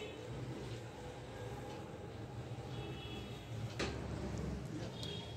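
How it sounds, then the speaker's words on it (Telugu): A kitchen mixer grinder runs with a steady, low whirring drone, faint and continuous, with a brief clack partway through. "ఇప్పుడు మిక్సీ వేసుకోండి."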